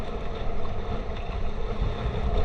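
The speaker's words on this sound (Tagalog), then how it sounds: "Grabe lakas ng hangin. Parang may bagyo ulit." Strong wind at sea roars steadily with gusty rumble and buffeting, with no voices.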